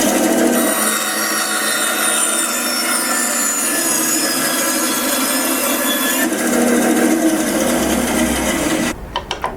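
A Record Power BS 250 bandsaw cuts across a piece of wood, a loud, steady whining rasp that holds for several seconds, shifts in tone partway through, then stops.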